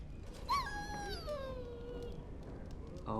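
Dog in the video game Dragon Age Origins whimpering, with a high, falling whine near the start and a short fainter whimper at the end, close and clear over quiet game ambience.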